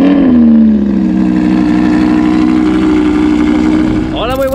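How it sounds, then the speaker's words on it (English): A heavily modified tuned car's engine just after a cold start, idling loud and close with a steady low rumble that settles slightly, then a brief rev climbs near the end. "Ready for this cold start?"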